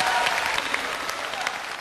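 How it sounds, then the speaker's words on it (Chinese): A short burst of studio audience applause on a Chinese televised singing show welcoming a singer's mother to the stage, dense and even with no talk. "我们再次掌声欢迎我们的伯母，好不好？"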